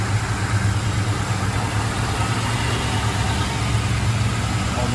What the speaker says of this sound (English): Nice quiet engine. Sounds like a sewing machine.